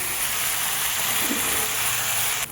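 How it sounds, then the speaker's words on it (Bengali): Vegetables with tomato, onion, salt and turmeric fry in hot oil, making a steady close sizzle with bright hiss and soft crackling that holds throughout and drops slightly at the very end, with no talk. "আমি সব সবজি দিয়ে, টমেটো পেঁয়াজ দিয়ে, নুন হলুদ দিয়ে ভালো করে ভাজছি"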